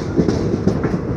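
A passenger train in India rolls along the rails near New Farakka Junction, with a steady loud rumble and rhythmic clickety-clack of wheels over rail joints, heard from inside a carriage.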